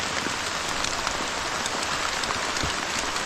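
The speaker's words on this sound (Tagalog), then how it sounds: "At tudong-tudo naman ang ulan" Heavy rain pours steadily, a dense constant hiss of drops drumming on surfaces with no break and no voices.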